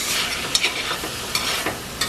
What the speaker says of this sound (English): I'm just going to mix everything around